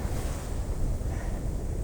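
Rushing white water and broken waves under a wing foil board, a steady loud roar mixed with wind buffeting the microphone, close and continuous with no voices.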